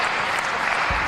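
Wrestling crowd applauding during a match, a dense, steady wash of clapping that stays loud and even throughout, with a brief low thump near the end.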